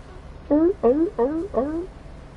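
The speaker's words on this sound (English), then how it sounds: "Hear the sea lions." Sea lions bark in the Bus Simulator 21 video game: four short, rising, honking calls in a steady rhythm, fairly close and clear over a low background rumble.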